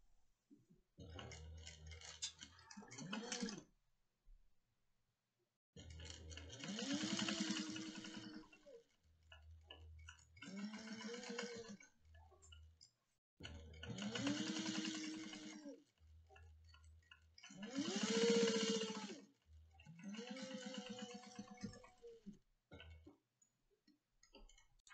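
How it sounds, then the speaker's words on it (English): A sewing machine stitches a quarter-inch seam on a quilt pattern in several separate bursts of steady whirring and rattling, with pauses between runs and no talk. "we're going to sew 1/4 inch going down"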